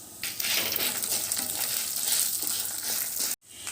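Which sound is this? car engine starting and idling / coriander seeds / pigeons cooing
coriander seeds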